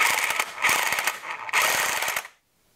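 A hand ratchet tightens the front sprocket nut on a Harley Davidson Iron 883 motorcycle, giving two close, loud bursts of rapid pawl clicking that stop abruptly into near silence.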